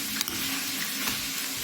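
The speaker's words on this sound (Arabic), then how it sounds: "في نفس الوقت برضو السمك بيتقلي اهو" Fish frying in a shallow layer of oil, a steady broadband sizzle that stays even and close throughout, with a couple of faint clicks and no talking.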